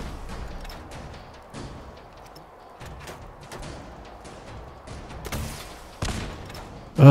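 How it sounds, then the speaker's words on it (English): Grenades from an Institute Adaptive Launcher in a video game go off as a string of dull thumps and bursts, irregular and mid-distance, building to a sharper loud blast at the end, with no talk. "Let's fire some 40mm grenades at this guy with our Institute Adaptive Launcher."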